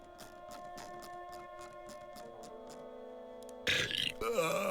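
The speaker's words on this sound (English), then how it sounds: "I can burp." A character in the adventure game The Whispered World gives a drawn-out burp over a soft, steady music bed, and a louder, rougher vocal burst breaks in near the end.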